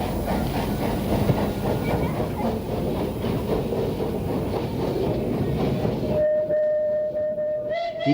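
A Surabaya steam tram from the turn of the century rolls along its rails with a steady, dense rumble and clatter of wheels, close and continuous, then cuts off abruptly near the end, leaving a faint tone.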